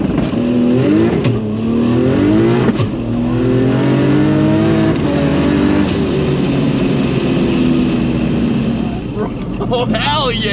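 A 1200-horsepower Ford Mustang with a Barra engine accelerates hard, its loud engine note climbing through rising revs with gear changes, heard from inside the car while people talk and shout over it.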